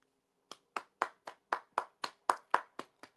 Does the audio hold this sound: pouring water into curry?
no